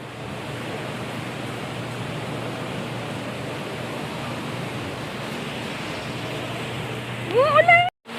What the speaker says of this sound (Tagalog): Ito, may umuulan.